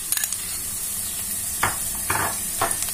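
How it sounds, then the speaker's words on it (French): Tomato paste going into softened onions frying in a pan, with a steady background sizzle and three short bursts of stirring and scraping spaced about a second apart. "Maintenant, on va rajouter notre concentré de tomates"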